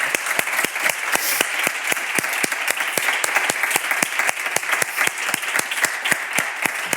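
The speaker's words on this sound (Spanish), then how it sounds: "yo creo que les damos un fuerte aplauso" Steady audience applause after a talk with two authors, dense rhythmic clapping holding at an even, fairly loud level from start to finish with no voices over it.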